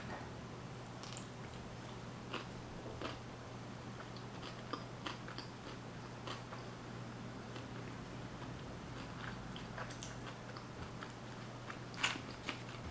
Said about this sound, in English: I feel like I just had to chew that for 5 minutes straight